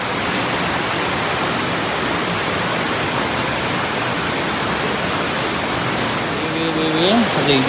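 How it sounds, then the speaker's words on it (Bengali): Water rushing out through a narrow hill gorge along the Sonaichhari trail in Feni, a steady broad roar close by and continuous throughout, with a brief whistling tone near the end. "পাহাড়ের গিরিপথ দিয়ে হচ্ছে পানিটা বেরিয়ে যাচ্ছে"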